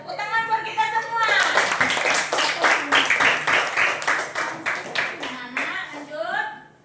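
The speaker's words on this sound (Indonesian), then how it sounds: "Tepuk tangan buat kita semua." A group claps hands together during a lesson, with a burst of quick, rhythmic claps in the middle and voices speaking just before and after it.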